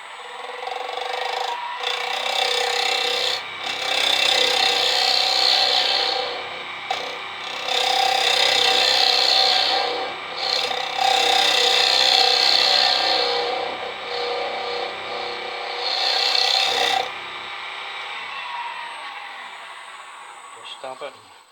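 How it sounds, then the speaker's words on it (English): Scraper working a spalted beech box spinning on a wood lathe: loud rasping, hissing cuts in several bursts of a few seconds each, separated by brief pauses, with the lathe's quieter hum between them. "We'll just use the scraper and sort of put a wee"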